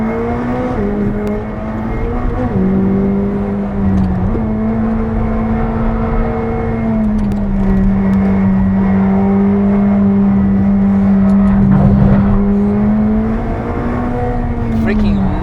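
A McLaren 765LT driving hard around the Nürburgring, its engine droning steadily and rising and falling in pitch as it accelerates and shifts, loud and close throughout from inside the car.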